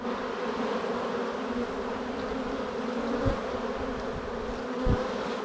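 Honey bees buzz steadily around hive frames as a colony is inspected. The dense drone is close and continuous, with a few louder low swells, and no one speaks.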